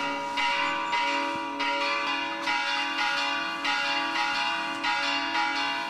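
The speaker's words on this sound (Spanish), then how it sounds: "el sonido de las campanas anuncia que un nuevo día ha dado inicio con normalidad" Church bells ring in Santo Tomás, a steady run of overlapping strikes roughly every second, with a bright, sustained ring filling the air and no voices.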